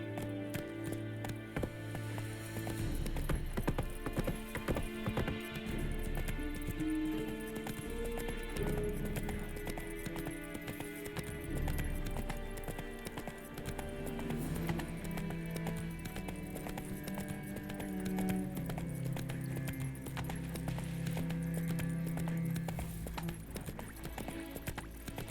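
Roach the horse gallops in The Witcher 3, her hooves beating a steady, continuous clip-clop rhythm at moderate volume over a long stretch.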